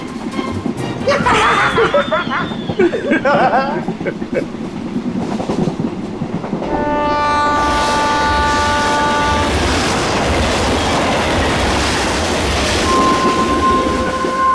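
A passenger train rolls along the railway with a steady loud rumble and rhythmic rattling, long sustained tones rising partway through, while people talk briefly over it early on.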